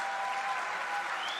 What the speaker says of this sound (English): A big round of applause, people.